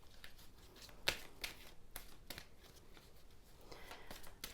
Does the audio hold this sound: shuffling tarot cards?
yes